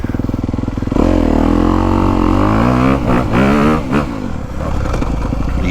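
A Honda CRF250R four-stroke dirt bike rips around an old-school GP motocross track, its engine loud and close, revving up and down through gear changes with steady throttle pulls and brief chops.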